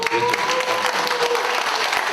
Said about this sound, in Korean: 큰 박수 한번 쳐주십시오